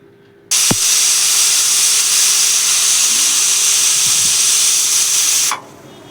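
A pressure cooker holding a little water with Malabar spinach and a fish head lets out one loud, steady whistling hiss of steam that runs about five seconds, then cuts off sharply. A couple of faint clicks sit underneath, with no talking.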